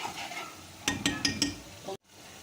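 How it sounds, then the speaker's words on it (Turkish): A spoon mashes half a spoonful of tomato paste in a frying pan, making four quick, evenly spaced scraping strokes over a soft sizzle before a sudden cut. "Salçamı eziyorum böylece."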